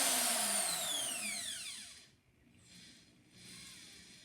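Harbor Freight variable speed rotary tool on a flex drive, used to polish phonograph nickel or gold plating: a high whine sweeps downward as the motor winds down, then softer intermittent whirring follows, close by with no talk.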